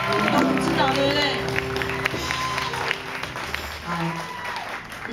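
A concert audience applauds at the opening of a live performance, a steady patter of many hands with a voice talking over it.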